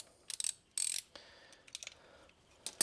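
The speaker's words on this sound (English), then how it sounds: "So let's grab a socket and we'll undo these little bolts that are in there." Ratchet wrench with a 7mm socket loosening small alternator bolts on a Mercedes, giving short bursts of rapid close clicking with pauses between strokes, no talking.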